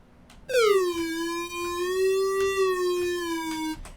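Monosynth lead built in Unreal Engine MetaSounds with glide set to maximum, a bright buzzy tone sliding smoothly between notes in one long continuous portamento, loud and alone.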